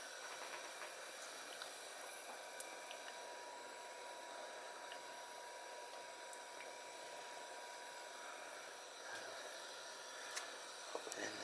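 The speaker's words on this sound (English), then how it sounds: "we heat the oil in the cooking pan and then get the fish and pop it in" A breadcrumbed plaice fillet frying in hot oil in a pan, a faint, steady sizzling hiss with occasional tiny pops, heard alone and unbroken.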